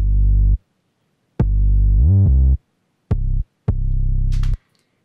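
Four notes from a narrower sub bass synth, deep and sustained with silent gaps between them; the second note glides upward and the last is longer with a brief bright sweep near its end. No voices.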